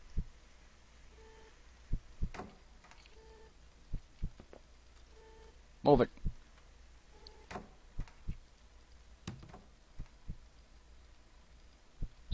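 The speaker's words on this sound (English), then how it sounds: "This heartbeat's really creeping me out" A horror video game plays a low, steady heartbeat thump that repeats in slow pulses under faint hum and scattered clicks, with a brief spoken line.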